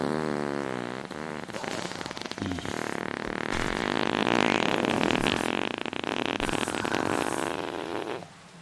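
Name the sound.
loud fart sound effect in the video game Lost Relics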